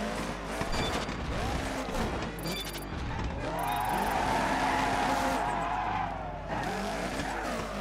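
A Subaru WRX in Dirt 3 gymkhana revs hard and slides through drifts, with tire squeal rising and falling over a steady engine drone, close and loud.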